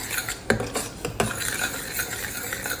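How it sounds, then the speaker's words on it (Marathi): Tomato puree being sautéed with onion in a pan: a spoon scrapes and clinks against the metal in a few sharp taps over a soft, steady sizzle, close up and fairly quiet. "ही जी टॉमॅटो प्युरी केलेली आहे ती टाकायची आहे ही पण आपल्याला चार ते पाच मिनटं परतून घ्यायची आहे"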